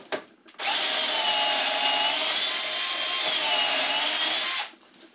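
A bit drilling into a wood panel during a jig-guided hole boring job, one loud continuous whining run of about four seconds, starting abruptly and cutting off cleanly, with nothing else around it.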